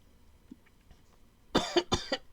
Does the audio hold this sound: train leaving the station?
no